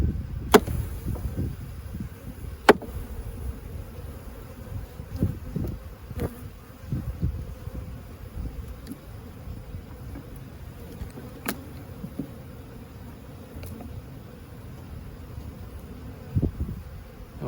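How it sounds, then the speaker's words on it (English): Honey bees hum around a hive in a low, continuous drone, quiet and close, broken by occasional sharp clicks and knocks of handling, with no talking. "We've got plenty of bees here."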